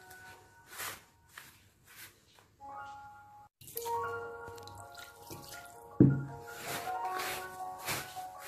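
Water trickles and splashes in small additions into semolina pizza dough being mixed by hand, starting faint and growing steadier and louder in the second half, with a brief sharp knock partway through.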